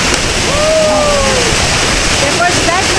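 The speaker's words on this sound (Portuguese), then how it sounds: "Tomou banho de cachoeira, Floquinho?" A waterfall in Pernambuco, Brazil, roars steadily up close with a constant broadband rush of falling water, while a person talks over it.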